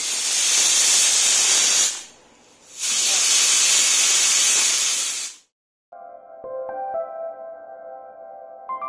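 A pressure cooker vents two long loud bursts of hissing steam while chicken curry cooks, separated by a brief gap, then cuts off and gives way to faint tonal kitchen sounds.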